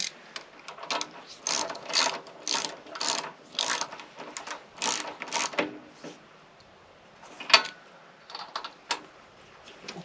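A hand ratchet clicks in quick bursts of short pawl ticks as a spark plug is tightened back into a small two-cycle engine, with brief pauses between strokes and no talking.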